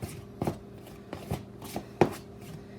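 A pastry blender dragged through fat and flour in a bowl for biscuit dough, a few separate scraping, clattering strokes at an uneven pace, close and fairly crisp, no speech.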